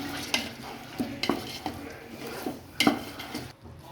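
Chicken pulao is stirred in a pot, a spoon clinking and scraping against the metal in several sharp knocks over a soft background sizzle, close by and without speech.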